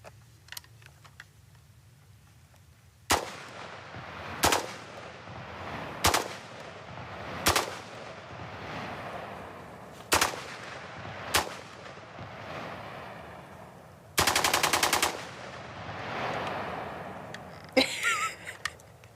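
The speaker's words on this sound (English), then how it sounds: "the sound of the rate of fire coming out of this AR-15" Shots from a bump-fired AR-15 rifle, about ten sharp reports spaced a second or so apart, then a short rapid burst and a few final cracks, heard at a moderate distance against quiet background.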